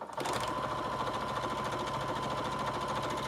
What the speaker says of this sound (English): I'm going to sew up this edge, across this little edge, down this edge